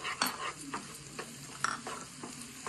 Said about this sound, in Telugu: బాగా వేగాలి ఈ మసాలా మొత్తము. ఆయిల్ బయటకు వచ్చేంత వరకు వేయించాలి.